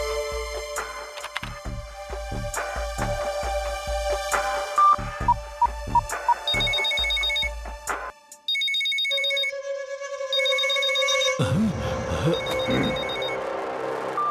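A phone ringing out on a call to a kidnapper in the Shiva kids' cartoon: repeated electronic ringtone bursts and trilling rings, loud and alone with no talk over them.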